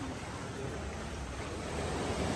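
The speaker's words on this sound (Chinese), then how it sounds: "在这里吃早餐，听海浪声，" Sea waves wash onto the shore at a seaside spot where people are eating breakfast outdoors, a steady, close, broadband surge that swells slightly toward the end, with no talking.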